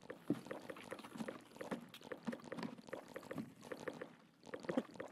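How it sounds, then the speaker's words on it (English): Character in Escape from Tarkov gulping down a bottle of super water: quiet, steady gurgling and swallowing sounds with a rhythmic liquid slosh, close and soft. "I'm gonna look into the sun while I pound back the super water"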